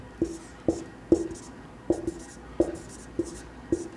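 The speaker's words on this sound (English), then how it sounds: "I'll write the answer here." A pen writes an answer by hand on paper, giving about eight short, distinct scratching strokes in an uneven rhythm, close and fairly quiet, with no talking.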